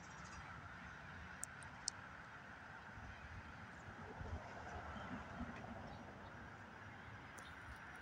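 An outdoor bird gives faint, distant goose-like honks over a low, steady background rumble. Two brief clicks are also heard.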